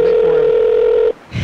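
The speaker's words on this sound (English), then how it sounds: "We're calling Marco Rossi, the mayor candidate." A telephone call being placed: a loud, steady electronic tone holds for about a second, then cuts off into a short silence before a faint click.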